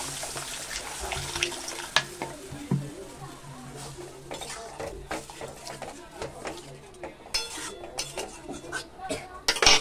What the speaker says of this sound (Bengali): এবারে জল দিয়ে দেবো। চলো জল দিয়ে দিই।